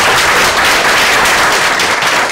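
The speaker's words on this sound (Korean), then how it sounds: "여러분들 뜨거운 박수로 고맙습니다" Loud, dense applause from an audience at a KAIST guest lecture on reform conservatism, a steady wash of many hands clapping throughout without pause.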